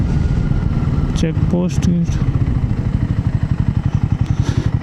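Motorcycles and other vehicles run on a road at a checkpost on the Tripura to Mizoram route, a close, pulsing engine chug that grows more rhythmic toward the end, while someone talks over it.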